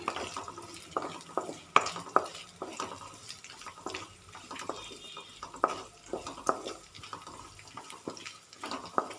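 Dried red chillies and shallots sautéing in a pan for drumstick dal curry, faint crackling and repeated spatula scrapes and taps in an irregular rhythm, fairly quiet overall.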